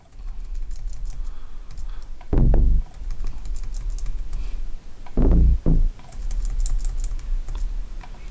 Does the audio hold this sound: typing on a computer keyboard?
yes